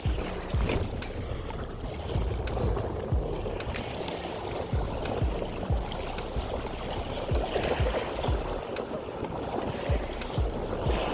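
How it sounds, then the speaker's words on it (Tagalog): Strong wind roars steadily across the microphone, a broad rushing noise with low, gusty rumbles and buffeting throughout; no one speaks. "Sobrang lakas po ng hangin."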